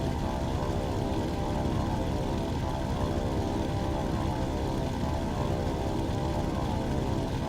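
A World War II propeller plane's engine drones in the WWII Online game, a dense continuous buzzing roar held steady at full volume while climbing, with no voices over it.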